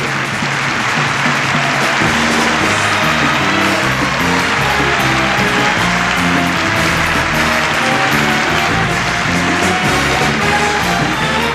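Audience applause at a 1980 live show in Las Vegas, steady loud clapping and crowd noise filling a large showroom, with music from the stage playing underneath throughout.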